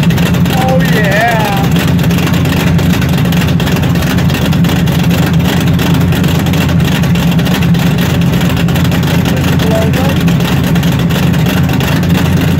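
Open exhaust cutouts on a 1968 Chevelle rumble loudly and continuously with deep low engine tone, while voices talk and exclaim over it.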